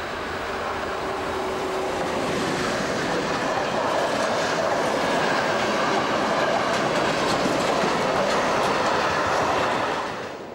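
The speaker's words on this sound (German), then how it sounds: "Die E94 von Rail4U fahren auch 2016 noch täglich Güterzüge." A Rail4U E94 electric locomotive hauls a freight train past, its steady rumble and rolling wagons joined by rhythmic clickety-clack of wheels over rail joints, loud and close throughout with no voices.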